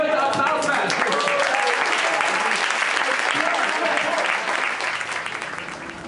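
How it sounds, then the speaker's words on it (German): An audience applauds at a cooking event hosted with a five-star chef, steady dense clapping filling the room for about five seconds before thinning slightly toward the end, with no voices standing out. "Ich denke, das ist ein guter Applaus."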